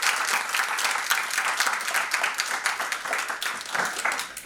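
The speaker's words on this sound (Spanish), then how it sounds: "Un aplauso, por favor" An audience at a book presentation applauds in a continuous burst of dense clapping, fairly close and steady, easing slightly at the end.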